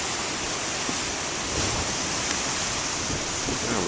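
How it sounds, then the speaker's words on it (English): Ocean surf breaking on the shore, a steady broadband wash of rushing water that swells slightly midway, loud and continuous with no talk. "Looks like all the big waves are over there."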